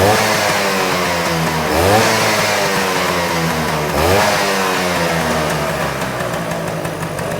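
A restored Vespa P200 two-stroke scooter engine runs close by with a loud, buzzing idle, revving up twice in quick swells before settling back to a steady, slightly uneven putter; nobody speaks.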